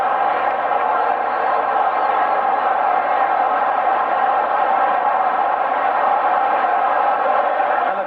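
Football fans in a stadium at a New Jersey Generals vs Jacksonville Bulls game keep up a dense, continuous crowd roar and chant at steady loudness throughout.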